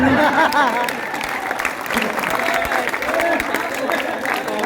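An audience at a patriotic poetry recital for Martyrs' Day breaks into applause, lively clapping mixed with scattered voices and a few chuckles running underneath throughout.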